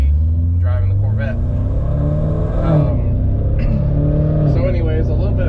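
Corvette Z06 exhaust rumbles steadily with a deep, close low drone and slight swells in revs, while someone talks over it throughout.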